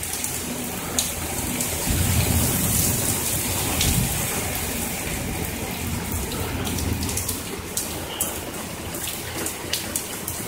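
A summer thunderstorm with heavy rain hissing steadily on surfaces, while rolling thunder rumbles low and close through the downpour.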